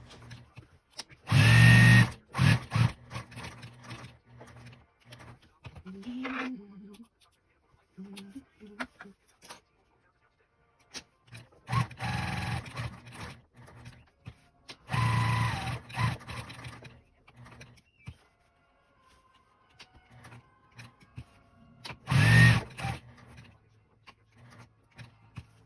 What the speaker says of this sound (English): I'm just going to quilt each square, leaving 1 inch all the way around the perimeter of this square